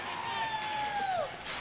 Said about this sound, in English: Practically a sold-out crowd, folks, as you can hear them behind me.